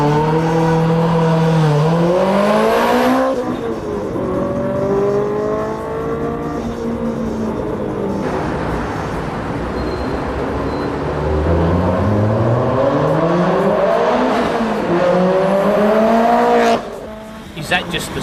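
Car engine revving hard, pitch climbing and falling through several sweeps, loud and close, cutting off near the end.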